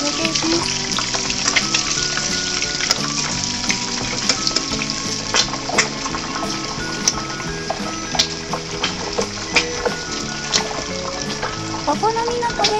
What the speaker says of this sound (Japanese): 1分くらい揚げていきます。